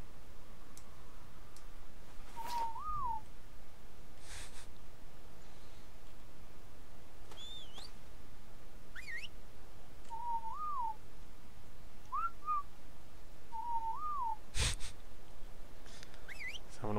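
A character in Ark Survival Evolved whistles several short rising-and-falling tones spaced apart, with faint clicks and ticks over a quiet game background.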